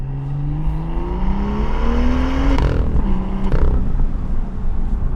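A first-generation BMW M2 with a carbon fiber cold air intake and resonator-deleted exhaust, driven hard on New Jersey backroads: loud, continuous engine and exhaust note with rising revs through the gears and a brief shift break midway, no talking.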